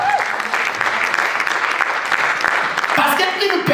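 A church congregation claps together in sustained, dense applause, loud and close, with cheering voices mixed in and a brief spoken phrase near the end.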